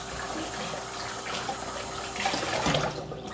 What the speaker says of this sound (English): I gotta rinse this out. Rinse out your measuring cup.